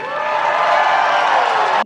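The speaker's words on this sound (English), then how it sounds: "And the crowd goes wild" Crowd cheering and applauding at a political rally, a loud, sustained wash of many voices and clapping that holds steady and then cuts off abruptly.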